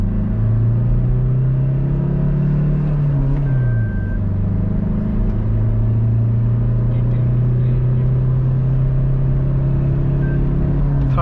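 Toyota Fortuner SUV in sport mode accelerating hard through the gears, its loud, steady engine drone climbing in pitch, dipping at a gear change near four seconds, then rising again, heard from inside the cabin.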